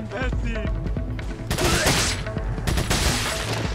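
TMP submachine gun bursts in Resident Evil 4 gameplay crackle in rapid automatic volleys, loud and dense, layered over in-game noise and impacts throughout the stretch, with no talking heard.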